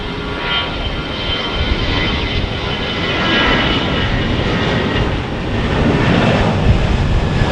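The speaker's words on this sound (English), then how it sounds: "we got departures to Bakersfield on an A320" Airbus A320 jet departing Phoenix Sky Harbor Airport, a loud, steady broadband engine roar that swells slightly as it passes, with no voices over it.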